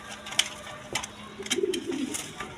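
Breeding pigeons kept in small cages coo softly nearby, a short rolling call swelling toward the end over faint rustling and clicks.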